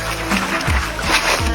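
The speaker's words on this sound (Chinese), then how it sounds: "这个海浪" Sea waves splash and slosh on a sandy beach at close range in short, uneven surges, with brief voices over the watery wash.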